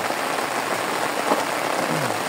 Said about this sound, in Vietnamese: Mưa nha anh em